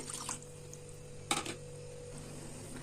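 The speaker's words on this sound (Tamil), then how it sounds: "நான் இது இதுக்கு ஒரு மூணு கப் தண்ணி ஊற்றிக்கிறேன்" Water being poured into a pot of chicken kurma with fenugreek greens, a brief splashing burst midway over a steady low kitchen hum, fairly quiet and close with no talking.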